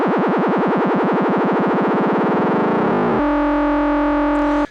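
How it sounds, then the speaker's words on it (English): An Arturia MicroBrute synthesizer's LFO swept up into audio range, a wobbling, distorted tone whose modulation speeds up until it buzzes as a steady, harsh pitched drone, loud and alone throughout. "we have audio range LFO, again in the MicroBrute"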